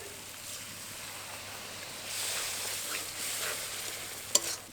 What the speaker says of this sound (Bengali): এখন আমি এর মধ্যে দিয়ে দেবো খুব সামান্য পরিমাণ মশলা ধোয়া জল